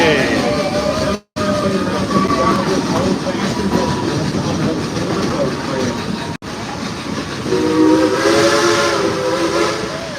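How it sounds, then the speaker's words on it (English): A diesel train engine rumbles along steadily with a loud, sustained horn blast sounding over the rolling noise; people talk in the background. "this rolling diesel engine that we're riding behind today"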